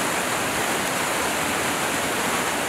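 Steady roaring rush of the Suter Creek waterfall where coho salmon leap, a dense continuous wash of falling water heard up close with no voices.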